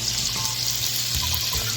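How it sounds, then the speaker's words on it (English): Jack Daniel's whiskey poured into a hot pan while cooking a burger, giving a steady, close hiss and sizzle of liquid hitting hot metal, with no pauses. "Go ahead and pour a little bit of this Jack in here"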